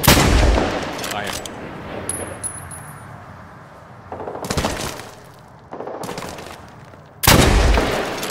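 Heavy gunfire in Medal of Honor Warfighter, loud and close, with a big opening blast, a long rumbling decay and further booming shots midway and near the end, under brief radio-style game voices.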